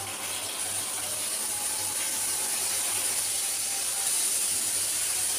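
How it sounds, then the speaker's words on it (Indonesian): Chicken frying in oil in a wok on a home kitchen stove gives a steady, loud, crackling sizzle with a fine hiss that holds evenly throughout, with no voices. "di sini mau mulai goreng ayamnya"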